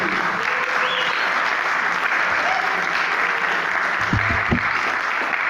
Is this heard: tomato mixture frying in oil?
no